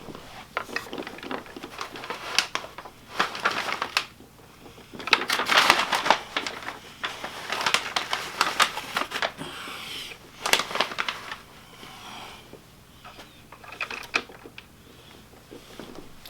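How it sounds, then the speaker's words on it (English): Craft paper layered behind a weaving loom crinkles and rustles in irregular bursts while a Tencel scarf is wound on, the crackles fairly close and moderately loud throughout, with no talking. "that crinkly noise, I've got some"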